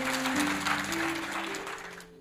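Applause from a congregation at a church sermon, a broad wash of clapping with a held organ or keyboard tone beneath it, loud at first and then fading toward the end.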